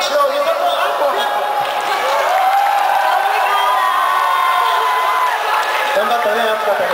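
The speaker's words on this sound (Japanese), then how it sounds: "そして大きな拍手を受けたのはアンコール。" A concert crowd in a hall cheers and shouts continuously, with whoops and voices calling over scattered clapping, loud and close.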